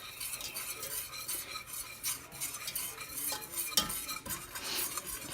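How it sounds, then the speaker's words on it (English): A utensil stirs melted butter and powdered stevia in a pan, giving a soft continuous scraping and swishing at close range with no talking. "and while I'm stirring that"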